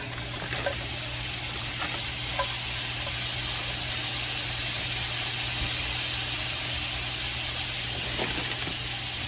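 Broccoli sizzles in sesame oil in a stir-fry pan for a chicken dish, a loud, constant hiss of frying and steam that fills the whole stretch with no speech.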